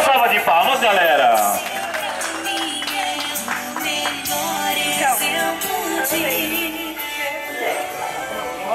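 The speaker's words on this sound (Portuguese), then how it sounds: "Pode bater palma, galera." A gathering crowd at a family celebration in Itaquera claps in a dense, continuous burst, strongest at the start, with voices and cheering mixed in throughout.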